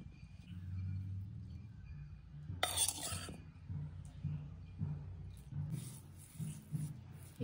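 A spoon scrapes and clinks in a pan as a Konkan-style banana flower vegetable dish is mixed with crushed fried chillies, soft stirring rubs under a low background hum, with one brighter clatter partway through.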